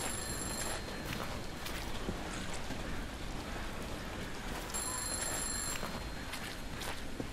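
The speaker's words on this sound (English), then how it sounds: "I hear a phone." An old telephone rings in the horror game Counting to 6, two bursts of shrill bell ringing at start and near the end over a constant loud rain-like noise bed.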